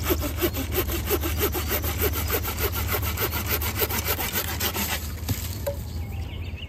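A Corona Razor 2 pruning saw rasps through a tree branch in quick, steady back-and-forth strokes, close up, then the strokes stop near the end.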